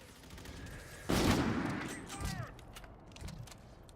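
In a shooter video game, a sudden loud burst of gunfire erupts and then trails off into a rumbling decay, with fainter shots and some game noise after it.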